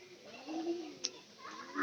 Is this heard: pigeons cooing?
yes